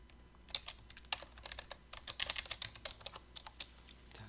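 Quick, steady keystrokes on a computer keyboard during spreadsheet work, a close, busy patter of clicks with brief pauses between bursts.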